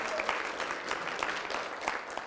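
Steady applause from an audience at a coaching session, a dense even wash of clapping that holds for a couple of seconds at moderate level with no one speaking over it.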